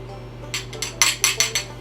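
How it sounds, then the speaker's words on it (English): A whisk clinking against a bowl while an egg is beaten with vanilla, six or seven quick bright taps in an uneven rhythm over a low steady hum, close by with no talk. "I'm going to whisk the egg, and to the egg we can add the vanilla"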